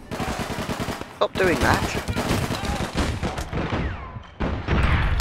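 Gunfire in APB Reloaded, bursts of shots crackling loudly and nearly continuously throughout, mixed with game effects and a player's voice talking over the action.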